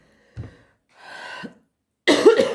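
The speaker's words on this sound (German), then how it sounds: "Oh, ich habe wieder ganz furchtbar den Husten." A person gives a short, close cough, then a breathy rasp, then a harsher cough with throat clearing, three separate bursts in quiet surroundings.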